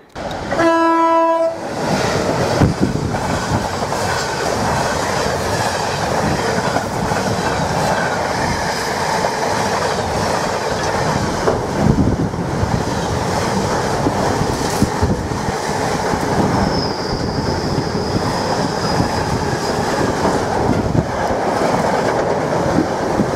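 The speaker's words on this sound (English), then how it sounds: "just had a third container train storm through at speed" A container freight train roars past Trimley Station at speed, loud and sustained, with a horn blast at the start and continuous rumbling wheels and clatter throughout.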